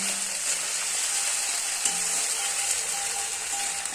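Cumin and ginger spice paste sizzling in hot oil in a pan for a rohu fish kalia, a steady loud hiss and crackle that continues without a break and without talk.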